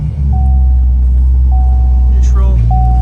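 A 2006 Chevrolet Corvette Z51 coupe with a 6.0L V8 and six-speed manual idles loud and close just after start-up, a deep steady low rumble holding throughout with a faint tonal whine on top.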